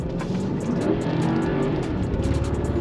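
A 500-horsepower Porsche with a twin-turbo V8 accelerating, a dense steady engine roar, close and fairly loud, holding for a few seconds without a break.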